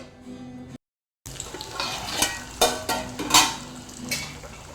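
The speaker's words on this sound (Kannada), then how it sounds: "ನೋಡಿ ಇವಾಗ ಪದಾರ್ಥಕ್ಕೆ ಚೆನ್ನಾಗಿ ಕುದಿ ಬಂತು" Thick curry bubbles in a pot with soft, irregular blips and pops over a low steady simmer, close and moderately quiet, after a brief silent gap at the start.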